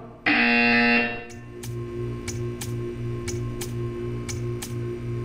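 A video game buzzer sounds first as one loud, harsh electronic tone for about a second, then gives way to a steady low hum marked by evenly spaced short ticking pulses.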